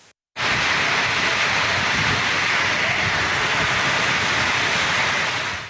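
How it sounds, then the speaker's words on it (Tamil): Heavy summer rain with strong wind pours down in Namakkal district and floods the streets. A dense, steady roar begins abruptly and stays loud throughout, with no voices. "கோடை மழை கொட்டியதால் தெருக்களில் மழைநீர் பெருக்கெடுத்து ஓடியது"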